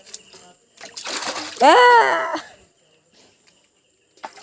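Water splashes in a bucket or basin as freshly caught pond fish such as tilapia are washed, a short splashy burst up close, with people talking loudly over and around it.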